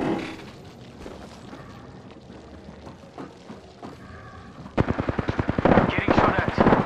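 Automatic gunfire in the video game Apex Legends: low game ambience first, then a loud, rapid string of close shots in the final seconds.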